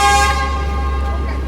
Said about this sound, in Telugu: చూడండి హార్న్ కొట్టింది